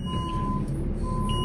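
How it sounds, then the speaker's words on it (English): A loader sounds an overload warning because its boom is extended too far out. The beeps are steady and repeating, with the tone sitting over a rumbling engine close by. "Sorry about the beeping, we're on the limit."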